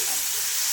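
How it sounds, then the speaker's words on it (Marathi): Spinach and tomato sauté in hot oil tempering for dal palak, a brief, close, steady sizzle and hiss with no talk. "पालक टोमॅटो फोडणीमध्ये छान असं परतून घ्यायचं."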